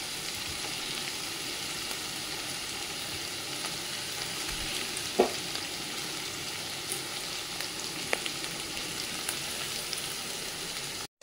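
Onion and tomato masala cooks in a pan with a steady, even sizzle, and a couple of sharp clicks break through near the middle. No one speaks.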